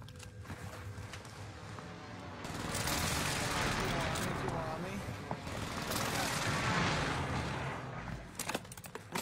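Enemy precision airstrike in a video game: a dense, sustained barrage of rumbling blasts and crackling gunfire builds after a quieter start and keeps pounding for several seconds, loud and close.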